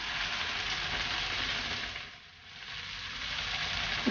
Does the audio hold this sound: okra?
yes